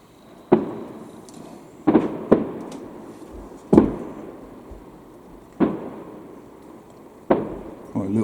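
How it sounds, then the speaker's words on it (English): Six sharp, loud firework bangs go off at irregular intervals, each echoing briefly, with a steady crackle and background hum between them. "It's fireworks, mate."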